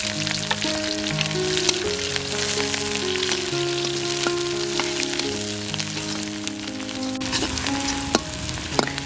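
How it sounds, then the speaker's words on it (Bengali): Chopped onion and slit green chilies sizzle steadily in mustard oil with black cumin for a Kerala-style sardine curry, while sustained musical tones play underneath. "এরপর দিলাম পেঁয়াজ কুচি ও চিড়ে রাখা কাঁচামরিচ।"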